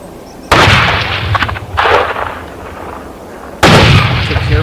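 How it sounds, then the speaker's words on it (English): Two sharp, loud gunshots from a wild boar hunt a few seconds apart, each followed by a rumbling echo across an open field, with a softer crackling burst between them. "After a few gunshots, the boar was hit and collapsed on the spot."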